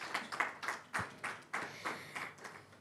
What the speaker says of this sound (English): can we have a huge round of applause for these amazing women?